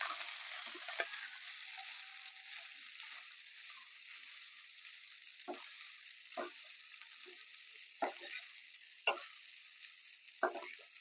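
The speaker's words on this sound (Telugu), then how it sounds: "ఇప్పుడు అన్నం వేసుకుని ఇందులో వేపుకోవాలి" Cooked rice fries in a pan with sesame powder, chilli and curry leaves, giving a steady soft sizzle, and a spoon stirs it with a few sharp scraping knocks against the pan.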